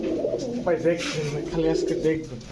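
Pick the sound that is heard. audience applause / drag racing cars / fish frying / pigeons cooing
pigeons cooing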